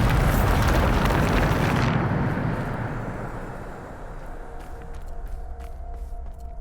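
A Bombarda spell explosion in the video game Hogwarts Legacy: a loud, dense roaring blast that fades over a couple of seconds into a lower rumbling tail.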